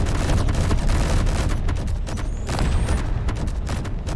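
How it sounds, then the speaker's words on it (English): Auto cannons fire in the space combat game Space Engineers. The rapid bursts run dense and loud across the whole stretch, booming and rattling with no pause and no talking. "get these auto cannons going"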